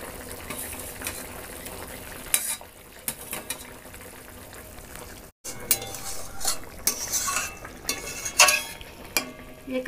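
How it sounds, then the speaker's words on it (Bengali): Potato curry stirred in a pot after cashew paste goes in, a spoon scraping and clinking against the pan in irregular bursts over a faint simmer, with brief louder knocks and a short pause midway. "এই কাজু বাটা দিয়ে একটু নেড়ে চেড়ে আবার ঢাকা দিয়ে দেবো।"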